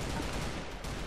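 A brief, loud, dense burst of rapid gunfire fills the moment in the CrossFire shooter game.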